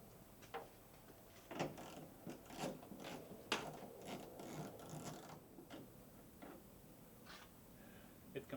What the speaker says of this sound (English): So let's go ahead and remove it. 8 mil socket like this.